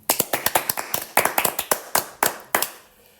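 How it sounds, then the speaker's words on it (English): A small group's hand claps ring out close and crisp, as separate sharp slaps in an uneven rhythm, with brief pauses between bursts and no talking. "it is time to get a round of applause from the audience for our contribution to the society."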